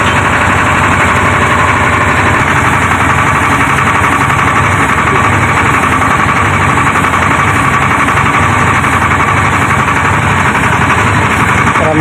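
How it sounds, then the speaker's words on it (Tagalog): A loud, continuous water pump engine for a water supply system chugs steadily from start to finish, a dense mechanical rumble with a rapid rhythmic pulse and no pauses. "So yun yung isang makina nagbibigay ng tubig."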